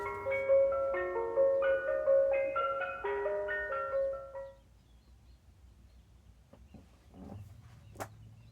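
A tinkling, music-box style ice cream truck melody plays for about four seconds, then stops, leaving quiet background with a few faint clicks.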